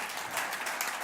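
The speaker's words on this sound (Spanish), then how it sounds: "Den un aplauso al Señor por eso" A church congregation claps during a sermon, a brief wash of many hands at moderate level with no clear individual claps, lasting about a second.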